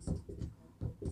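Marker or chalk strokes on a board as a word is written during a maths lesson on fractions, four short scratchy strokes in quick succession, close and alone.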